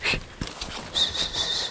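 A dog pants in quick, breathy bursts close by, the rapid huffing rising and falling over a short stretch.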